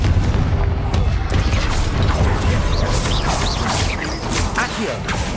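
A Confringo blast spell explodes in the Hogwarts Legacy video game, a loud booming crash with rumbling debris and whooshing magic effects layered over busy combat sound.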